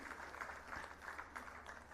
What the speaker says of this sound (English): So a big round of applause to the parents, Parvati and Satish,